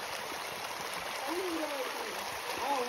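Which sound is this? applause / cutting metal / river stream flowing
river stream flowing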